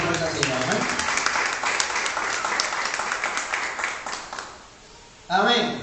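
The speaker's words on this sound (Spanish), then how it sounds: "Dale un aplauso por esta Señor" Spanish-speaking church congregation applauding during a worship service, a dense run of clapping that fades away toward the end before a voice cuts back in, with talk heard over parts of it.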